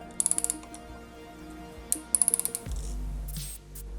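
A ratchet tool clicks in quick bursts while cracking loose a brake pad pin on a 2021 Aprilia RS 660, sharp close metallic ticks followed by a low hum and a brief rattle.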